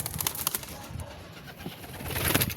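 Pigeons coo softly in the middle distance outdoors on a street, under a steady wash of ambient noise.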